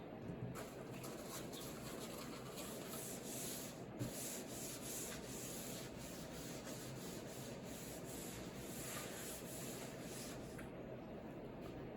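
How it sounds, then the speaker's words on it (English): A wood finish is rubbed out by hand with white 3M vinyl finishing pads during a laundry room remodel, a steady close scrubbing hiss that runs without a break and has no talk over it. "going to run them out a little bit with these 3M vinyl finishing pads, the white ones."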